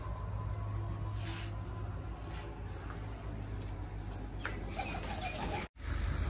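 Pigeons coo on a farm in Pakistan, their soft, repeated low calls sounding fairly close over a steady background hum, with a brief dropout near the end.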